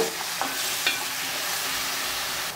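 A ground paste of onion, garlic, ginger and tomato is stirred in a hot pan for brinjal kuzhambu, giving a steady close sizzle of frying with a few soft scraping stirs.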